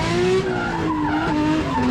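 Matt Frith's K70 drift car with a 1J engine slides with a loud, sustained tire squeal wavering in pitch over the howl of the engine, close and continuous for two seconds.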